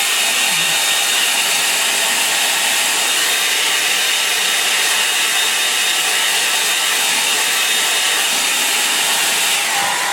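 A hair dryer blows steadily on a painting, a loud, even whooshing roar that runs unbroken at close range with no talk over it.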